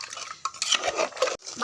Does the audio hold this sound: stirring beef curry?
yes